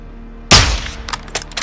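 A single loud, close sniper rifle shot booms in Call of Duty: Modern Warfare 2, a sharp blast with a ringing tail, followed by a few fainter clicks and rustles.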